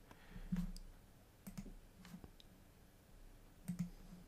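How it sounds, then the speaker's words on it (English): A computer mouse double-clicks on a PDF file icon on a Windows 10 desktop, producing a few sharp, quiet click pairs spread out in a near, otherwise silent room. "When I double click on a PDF on the desktop, it will open it in Adobe Reader automatically"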